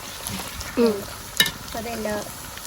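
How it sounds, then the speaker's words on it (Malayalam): Gobi manchurian frying in a pan and being stirred, a soft sizzle with a few brief scraping strokes and one sharp click, fairly quiet and close. "കട്ട പിടിക്കാതിരിക്കാൻ നമ്മളിങ്ങനെ ഇളക്കി കൊടുത്തിട്ട് കഴിഞ്ഞാൽ"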